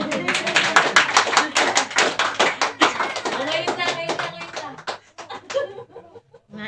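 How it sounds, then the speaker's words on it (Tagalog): A church congregation claps along during a sermon, quick irregular hand claps mixed with chuckles and laughter beneath a preacher's continuing speech, thinning out toward the end. "Pumalakpak po yung makakasama ko sa heaven."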